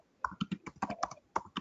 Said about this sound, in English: Debbie, by the way, we can hear you typing, just so you know.